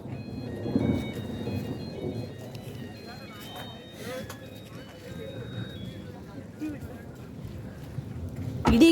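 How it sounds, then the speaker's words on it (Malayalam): Low thunder rolls in the mountains at Ponmudi, a dull rumble under rain, with people talking nearby through much of it. "ഇടിയൊക്കെ അവ സൈഡിൽ കൂടെ പോവും."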